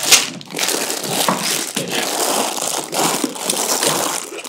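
Numbered plastic parts bags from a BlueBrixx Pro building set crackle and crinkle close up as they are handled, a busy, uneven rustling throughout with no voices.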